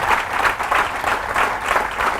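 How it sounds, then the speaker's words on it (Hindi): Loud audience applause fills a motivational training session, a dense steady wash of clapping with rhythmic surges, close and continuous with no talk over it. "इस बात पे जोरदार तालियां होनी चाहिए"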